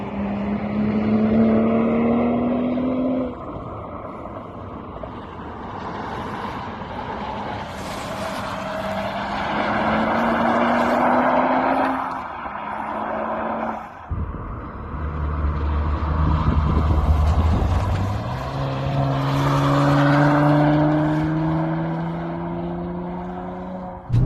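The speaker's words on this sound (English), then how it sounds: "Just hearing the sound of that V6 coming around the corner in that mountain" A Nissan Z's V6 sports car engine roars at full throttle, rising in pitch through gear changes as it passes and echoes off rocks in a mountain canyon, loud and sustained with no talking.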